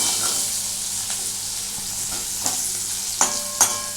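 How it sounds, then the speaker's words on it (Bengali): Onions fry in a pan while being stirred: a constant soft sizzle runs throughout, broken by a few sharp scraping strokes of the spoon near the end, with no talking. "এটা একটু ভালো করে নাড়াচাড়া করতে হবে, একটু ভালো করে নাড়াচাড়া করে নিই"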